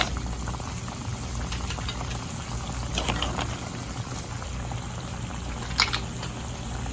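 Red wine sauce juice is poured over cooked mussels, producing a soft, continuous liquid splashing and bubbling with a few brief, sharper clinks.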